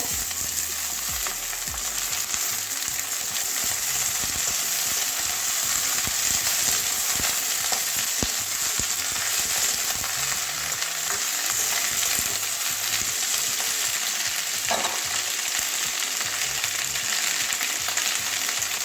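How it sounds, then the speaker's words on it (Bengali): Steady sizzling of ivy gourd frying in a pan with fried onions, with occasional scraping and stirring clicks, close and continuous with no voices. "এবারে ধুয়ে রাখা কুন্দ্রিগুলো সব দিয়ে দেবো"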